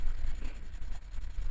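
A Derwent colored pencil scratches across paper in a steady, continuous run of close, dry strokes with no talking.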